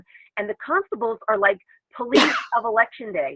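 A person sneezes once during a webinar about election-day polling places and constables: a single sharp, breathy burst that cuts briefly into ongoing speech, with talking before and after it.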